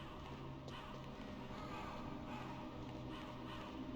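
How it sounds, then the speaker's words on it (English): In the Metal Gear Solid video game, several crows caw in an underground area, harsh repeated calls over a steady background hum. "What an alarming amount of birds to find deep underground."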